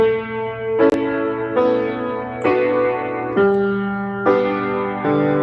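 Piano chords that blur into one another as the sustain pedal overlaps them, each new chord sounding over the lingering previous one, creating a continuous, muddy wash of sound.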